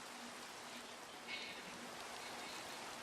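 Steady Minecraft rain hisses as an even, broad wash of falling water, soft and unbroken from start to finish, with a faint brief swell partway through.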